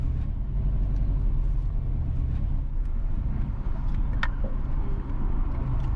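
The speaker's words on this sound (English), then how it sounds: "we are driving east on Winward Road in East Kingston" Steady engine and road rumble from inside a car driving east on Windward Road in East Kingston, Jamaica, loud and continuous with a faint squeak partway through.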